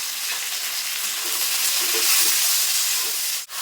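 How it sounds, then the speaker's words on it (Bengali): Rohu fish pieces seasoned with salt and turmeric fry lightly in hot oil, giving a steady close hiss and sizzle with no talk, ending in a brief clack. "হালকা করে ভেজে নেব তো সামান্য পরিমাণে একটু লবণ দিয়ে দেবো আর সামান্য পরিমাণে একটু হলুদ দিয়ে দিয়ে হালকা করে ভেজে নেবো"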